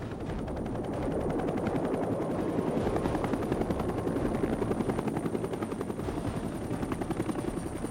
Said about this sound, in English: The backbone of the Army's prosecution of the war was officially termed the Bell UH-1 Iroquois